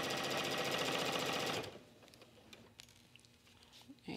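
A sewing machine runs a quarter inch seam down a faux suede belt with a fast, steady mechanical patter for about a second and a half, then stops and leaves quiet handling noise behind.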